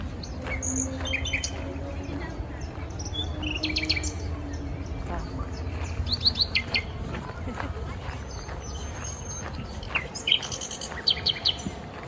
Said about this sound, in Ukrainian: Чуєте, як пташки співають, ну це просто клас, супер.